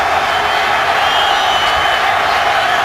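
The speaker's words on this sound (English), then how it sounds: "And this crowd is in a frenzy." A packed football stadium crowd roars after a big quarterback sack in a Ravens–Bengals game, a loud sustained wash of cheering and whoops that holds steady throughout, with a commentator's voice faintly in the mix.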